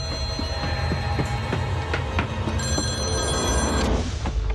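A telephone ringing in a loud, busy scene, repeated ring tones sounding through dense background music and noise, fairly close, with no clear talking.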